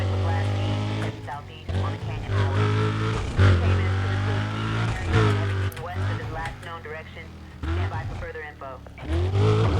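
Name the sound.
car driving in the video game Need for Speed: Undercover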